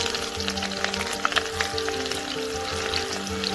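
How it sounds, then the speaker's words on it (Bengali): Chopped onion frying in hot oil after dry red chilli and spices, heard as a continuous close sizzle with light crackling pops and faint stirring. "দিয়ে ভালো করে পেঁয়াজটা ভেজে দেব"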